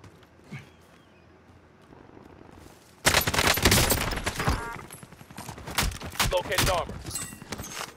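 Gunfire erupts in an online shooter match after a quiet stretch, with sharp rapid bursts and scattered shots continuing loudly, and a voice faintly present underneath.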